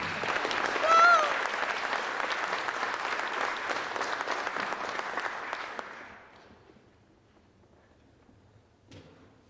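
Audience applause at the 2016 Ako Aotearoa Tertiary Teaching Excellence Awards ceremony, a dense, steady crowd clapping that fades out after about six seconds, followed by near silence and a brief knock.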